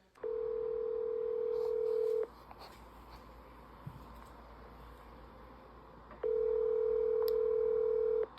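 A phone call rings unanswered: two long, steady ringback tones sound through the earpiece, separated by a few seconds of quiet line.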